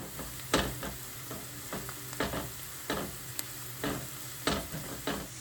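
Onion with salt and crushed garlic stirred in a hot pan: a low sizzle broken by several spaced scraping strokes of a spoon, close and moderately quiet.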